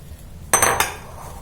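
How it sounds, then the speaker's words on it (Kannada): Jackfruit rasayana is mixed in a vessel, giving a quick pair of sharp metallic clinks and scrapes from a utensil against the pot, close and brief, against a quiet background. "ಎಲ್ಲ ಹಾಕಿ ಮಿಕ್ಸ್ ಮಾಡ್ಕೊತೀನಿ."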